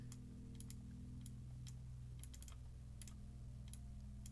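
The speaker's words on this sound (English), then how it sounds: "I'm just randomly clicking things. So apologies about the noise of my mouse." A computer mouse clicking close by in quick irregular bursts, sharp dry clicks in small clusters over a low steady hum, with no talking.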